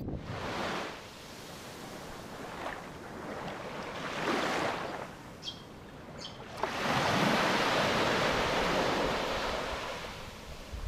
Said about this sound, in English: back to the sounds of birds, water and a gentle breeze.